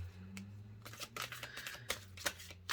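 Quick riffle bursts of a deck of reading cards that stick together being shuffled, several crisp fluttering rattles in a row, close and clear with a low hum underneath.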